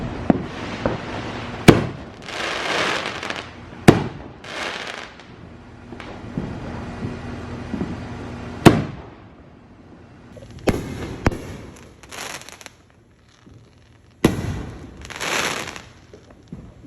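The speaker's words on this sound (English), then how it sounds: "While we listen to the dulcet tones of fireworks" Fourth of July fireworks explode in loud, sharp bangs followed by crackling bursts, scattered irregularly with quiet gaps between.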